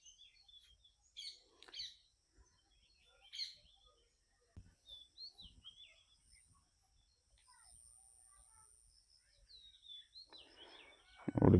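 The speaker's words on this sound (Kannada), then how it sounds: "ಅಲ್ಲಿ ನವಿಲು ಕೂಗ್ತಾ ಇದೆ." Village morning in Karnataka with birdsong and a peacock calling: scattered chirps and bird calls, distant and faint, with a few louder calls and soft rustling between them in a quiet outdoor setting.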